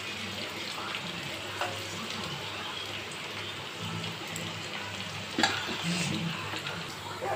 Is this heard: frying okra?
yes